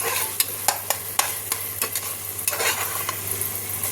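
Mint and coriander leaves sizzle in a hot pan with a constant frying hiss, while a spoon scrapes and clinks against the pan in a brisk, uneven rhythm as they are stirred.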